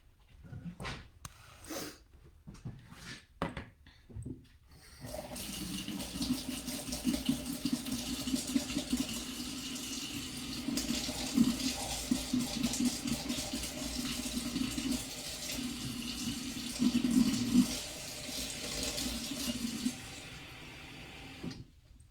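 Water pours steadily into a bowl for several seconds, a soft continuous splashing trickle after a few brief handling knocks.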